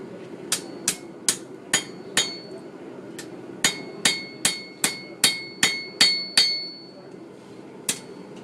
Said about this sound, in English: You can see just that little bit of hammering I did and start to put a little sway in it.